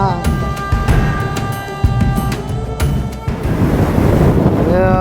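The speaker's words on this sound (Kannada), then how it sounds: "ಏ ಸಕ್ಕತ್ ಗಾಳಿ ಚಿನ್ನ ಏನೊಂದು ಗಾಳಿ" Strong wind roars across the microphone at a seaside lookout point on the Australian coast, a loud, continuous buffeting rush with gusts, and a voice speaks briefly at the start.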